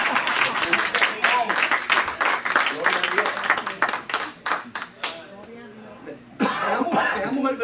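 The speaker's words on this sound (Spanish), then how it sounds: "denle un aplauso al Señor" Church congregation clapping in praise during a Spanish-language service, a loud burst of many hands with coughs and chuckles mixed in, thinning into scattered claps near the end before a brief renewed swell.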